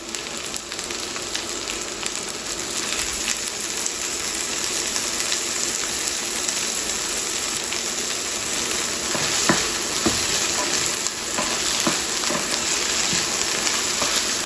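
Okra frying in a pan, a dense continuous sizzle and crackle with scattered pops and a faint stirring scrape, close and steady throughout with no voices.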